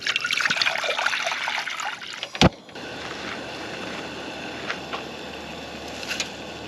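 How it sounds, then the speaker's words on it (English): A pot of water boils for pasta in a camper van, giving a soft, continuous bubbling and trickling hiss with one sharp clank partway through. "So water is boiling and the pasta has started."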